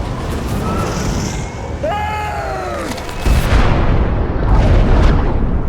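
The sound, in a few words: missile explosion in a film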